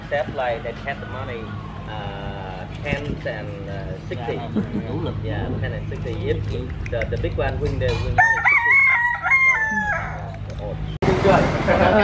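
Several fighting roosters in Cambodia crow and cluck nearby, overlapping each other, while people talk over the steady background of the farmyard.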